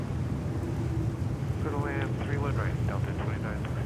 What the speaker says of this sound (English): And we have this Dreamliner heading to Miami.